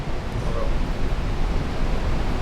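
Gurara waterfall in Niger State gives a steady, loud, broadband roar of falling water that holds constant throughout, with no breaks or distinct events.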